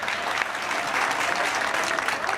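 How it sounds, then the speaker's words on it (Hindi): An audience aboard a ship on the Hooghly River at a comic poetry show claps in a thick, sustained burst of applause, even and fairly close, with no voices over it. "बंगाल के इस खूबसूरत लोकतंत्र में इन तालियों का मैं तहे दिल से स्वागत और अभिनंदन करता हूं"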